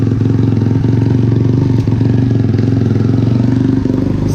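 Motorcycle engine running steadily right after a fresh valve adjustment and oil change, a loud close rhythmic idle with even chugging pulses and light mechanical clatter, no voices.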